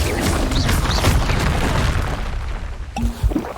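Confringo blasting curse explosions in Hogwarts Legacy: a dense, continuous run of booming bursts and crackling impacts, loud and close, with a brief sharp pop near the end.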